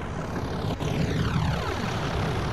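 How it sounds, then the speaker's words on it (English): A diesel locomotive in Train Simulator 2015 on the Glasgow Airport Rail Link rumbles past at close range, a loud, steady drone whose pitch sweeps downward as it goes by. "we've got a rumbling diesel coming up to us"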